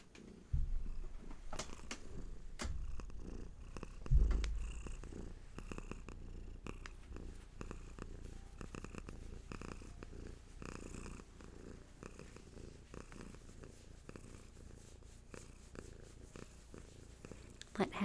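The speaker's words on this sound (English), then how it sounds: "Let Hattie's purrs bring you back." Hattie the cat purrs close to the microphone in a quiet room, a soft steady rumbling purr running throughout with faint breathy pulses and occasional small clicks.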